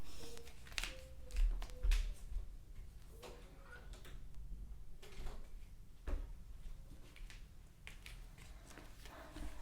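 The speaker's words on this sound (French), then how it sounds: "Je vais juste fermer la porte, excusez-moi." An indoor door is shut with a soft thud partway through, surrounded by faint scattered clicks and light room noise, with no talking.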